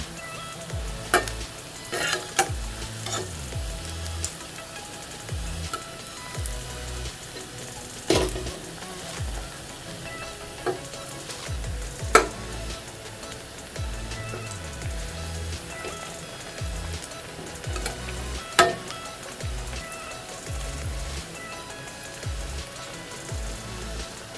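Onion bonda balls fry in hot oil with a continuous crackling sizzle, broken by occasional louder clacks and scrapes as the balls are turned in the pan, with no voice over it.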